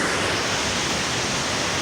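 A fast, powerful waterfall roars close by, a dense, steady wash of rushing water with spray, loud and unbroken with no other sounds.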